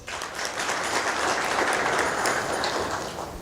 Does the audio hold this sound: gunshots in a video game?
no